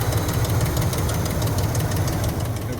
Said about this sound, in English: got a bit of a noise that it didn't have before. It sounds to me like it might be lifters